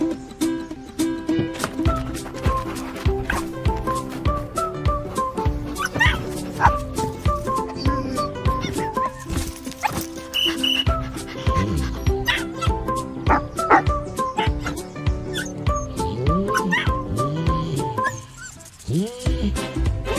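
Several dogs yip, bark and whimper in a Subaru Ascent advert, with excited, overlapping canine cries running throughout against a busy backdrop of music and sound.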